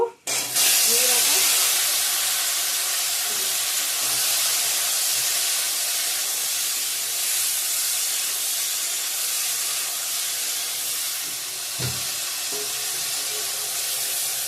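Jujube plums (kul) dropped into hot oil with panch phoron for a sweet-and-spicy pickle, giving a loud, steady sizzling hiss that runs almost unbroken throughout.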